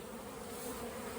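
Dense swarm of honeybees buzzing steadily around opened beehives in an apiary, a continuous close, even drone with no break.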